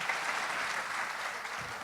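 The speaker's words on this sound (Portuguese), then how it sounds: "Você pode aplaudir a Deus nessa noite?" Church congregation applauding God during a Portuguese-language evening service, a dense, steady wash of clapping hands that holds at an even level throughout, fairly quiet and heard alone.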